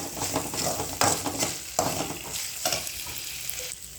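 Onion with ginger garlic paste fries in a pan for a curry, a steady sizzle broken by several sharp scraping stirs of a spoon against the pan.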